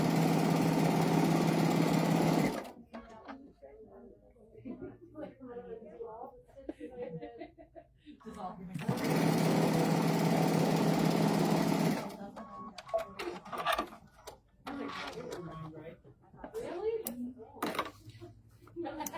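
A sewing machine with a J-foot stitches quilt fabric in two loud, steady whirring runs, with a pause between them where people talk and laugh, and more talk after the second run.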